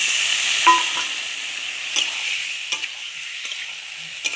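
Food frying on a clay stove in a Bengali home courtyard during a fish feast, a steady hiss of sizzling oil with a few sharp scrapes and clinks of stirring scattered throughout, close and moderately loud, no voices.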